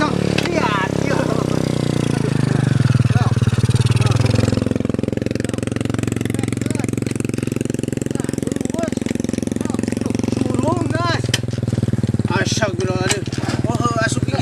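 A motorcycle with a gear fault, stuck in gear, grinds and rumbles steadily as it is pushed and started, with people talking loudly over it throughout.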